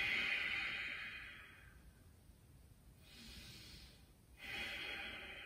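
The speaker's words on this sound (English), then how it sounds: "Focus on that breath here, this pranayama, this Ujjayi breath." Ujjayi pranayama breathing in a yoga power flow class: slow, audible throat-constricted breaths, a hissing inhale or exhale at the start, a softer breath midway and another rising breath at the end, close and steady with pauses between.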